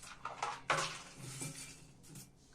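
Bark chips being poured into an orchid pot and mixed by hand give dry, close rustling and clattering scrapes, with a sharp burst near the start and softer shuffling after it. No one speaks.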